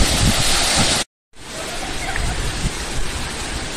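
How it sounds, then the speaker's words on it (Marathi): Heramb waterfall in Konkan, still overflowing in February, gushes with a dense, loud, continuous roar of falling water heard close up, broken by one brief dropout. "समोर तुम्ही या फेब्रुवारी महिन्यात सुद्धा ओसंडून वाहणारा हा धबधबा पाहू शकता."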